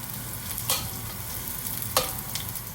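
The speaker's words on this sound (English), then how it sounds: "And wait till it's nice and hot. Add the shallots. Give them a nice stir." Shallots frying in about three tablespoons of hot sunflower oil, a steady close sizzle with two brief louder scrapes of stirring, no voices.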